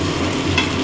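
Prawns fry in oil for potatoes and rice, giving a steady, close sizzling hiss with faint stirring scrapes and no talk.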